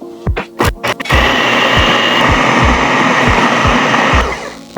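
A blender grinds homemade peanut butter with a steady, loud motor whir and rhythmic thumping as the thick paste churns, following a few short pulsed starts.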